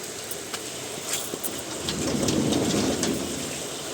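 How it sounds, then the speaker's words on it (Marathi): Heavy rain pours continuously, with a deep rumble of thunder building in the second half; no voices are present. "पाऊस सुरू झालाय"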